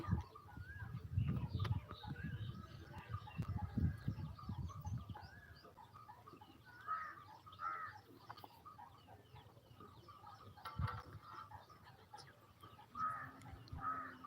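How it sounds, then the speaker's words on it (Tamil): Faint peacock calls drift in from a distance, scattered over soft background noise and low rumbles, with a few louder cries later on. "மயில் கத்துற சத்தம் தூரத்தில் மயில் கத்துது"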